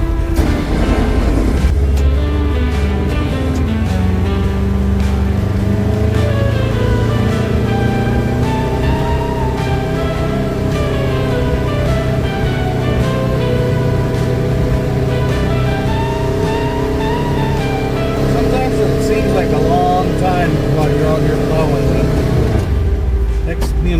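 A snow plow truck engine drones steadily and close while plowing, with a low continuous rumble and someone speaking over it for most of the stretch.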